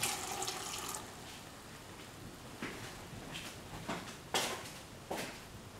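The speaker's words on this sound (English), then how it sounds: "Pour in a cup of water." A cup of water poured into a cooking pot of ash gourd with ground coconut and yogurt, a brief rushing pour at the start followed by quieter splashes and clinks, close and with no speech.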